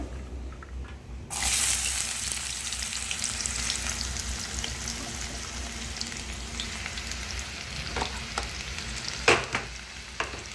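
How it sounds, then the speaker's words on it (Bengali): Onions drop into hot oil in a kadai with a sudden loud hiss, then a strong, steady frying sizzle continues close by, broken late by a few sharp spatula knocks. "তেলটা গরম হয়ে গেছে, আমি পেঁয়াজ দিয়ে দেব।"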